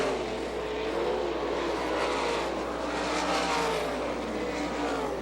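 Sprint cars racing around a dirt oval at Butler, Michigan in an All Star Circuit of Champions event, a continuous loud engine roar heard from a distance with rising and falling pitch as the cars circle.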